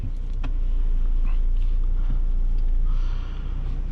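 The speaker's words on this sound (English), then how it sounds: "Go ahead and start up this MKZ, get everything started." A 2018 Lincoln MKZ Black Label with a 2-liter turbocharged EcoBoost engine starts up, its close, steady low rumble settling into idle with faint interior whirring, alone with no talking.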